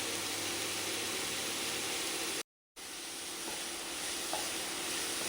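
Vegetables including beans frying in a pan with a little salt for a special vegetable pulao, a steady close sizzling hiss throughout with a brief dropout midway and faint stirring clinks.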